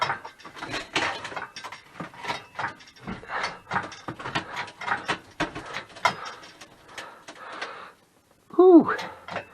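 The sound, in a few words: things creaking under strain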